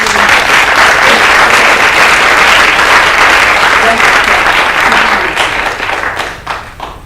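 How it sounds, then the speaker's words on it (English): A large audience bursts into loud, dense applause for Kevin during a motivational talk, a steady wash of many hands that thins and fades out over the last second or so. "can we clap for Kevin, please?"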